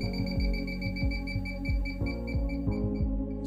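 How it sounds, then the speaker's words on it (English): A rapid, regular series of electronic beeps from an INFICON D-TEK 3 refrigerant leak detector repeats steadily over a constant tonal hum, close and clear with no talking. "if the beeping quickens, you're closer to the leak"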